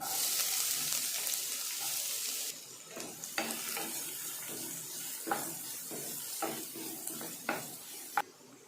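Chopped onion sizzles in hot oil with fennel seeds in a pan, with a steady frying hiss and repeated scraping, stirring knocks from a spoon, close by.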